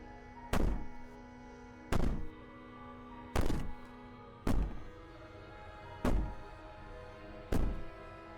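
Heavy banging comes from a basement in the video game Slay the Princess: six deep, evenly spaced thuds about every one and a half seconds, loud and booming, each with a short resonant decay over a low background hum.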